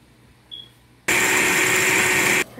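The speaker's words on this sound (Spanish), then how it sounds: "Vamos a licuar lo que es el chile primero." Kitchen blender pureeing chili with onion, garlic and a little water, a short faint click, then a loud sustained whirring motor that runs evenly for over a second before cutting off abruptly.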